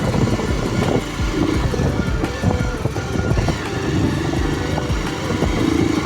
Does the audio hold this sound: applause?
no